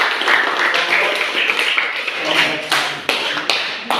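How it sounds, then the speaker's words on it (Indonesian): A class bursts into close, loud clapping after a biology presentation, with irregular hand claps and a few sharp taps standing out as the applause tapers, voices mixed in. "Berikan aplaus untuk"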